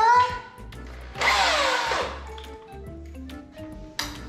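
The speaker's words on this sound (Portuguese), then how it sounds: "ele quer que você faça o furo até do outro lado" A power drill boring through a house wall, a loud whining burst in the middle with shorter drill starts before and after, and faint voices in between.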